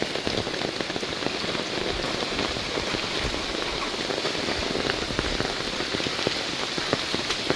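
Heavy monsoon rain pouring at Elephant's Head Point, Mahabaleshwar, a dense continuous hiss of drops striking surfaces nearby, with scattered sharper individual drop hits throughout and no voices.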